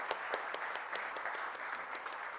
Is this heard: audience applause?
yes